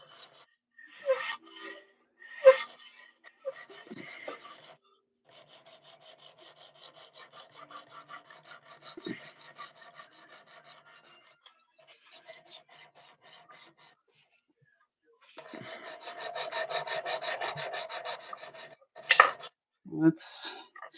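A knife blade is sharpened to take off the burr, giving quiet, rasping strokes of steel scraping on an abrasive surface. The strokes come in short runs and longer passes, separated by brief pauses.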